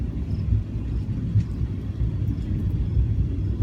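Deep, strange thunder rolls as a continuous low rumble, fairly loud and unbroken for a few seconds with no talking.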